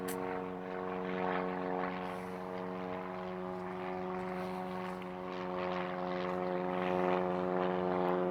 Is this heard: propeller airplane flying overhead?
yes